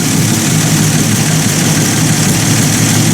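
The engine of a 1950 Buick Roadmaster runs at a loud, steady idle with a deep rumble and a constant, even drone close by, and no talking.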